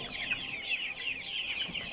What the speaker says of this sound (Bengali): এই মুরগির বাচ্চাটা হচ্ছে কালার বাট আর প্রবিটা সুপার